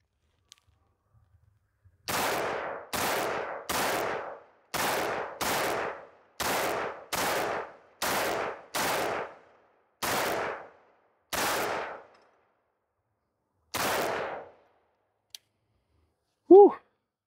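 A Sig Sauer MCX Spear LT rifle fires about ten sharp, loud shots in a steady, evenly spaced string, then one more after a pause and a short metallic clang at the end.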